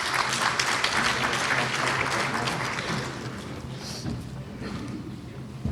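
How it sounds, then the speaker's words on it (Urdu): An audience claps warmly to welcome a speaker at a Dabistan cultural program in Toronto, with dense, steady applause filling the hall and slowly thinning toward the end. "آپ کی پرجوش تالیوں میں ڈاکٹر وسیم رضا صاحب۔"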